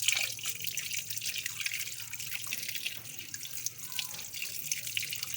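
Running tap water pours steadily over fish being washed in a kitchen sink after soaking in salted garlic water, a continuous close splashing hiss with no voices.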